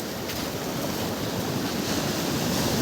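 Ocean waves wash steadily onto a beach in Pondicherry, a continuous loud roar of surf with some wind rumble and no clear breaks between swells.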